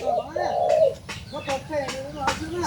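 A dove coos outdoors in a rhythmic series of soft, hooting calls, fairly close, while a person's voice is also faintly present.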